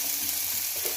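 Chopped shallots and onions sautéing in a pan, a dense continuous sizzle with a soft crackle, close and steady for a brief moment.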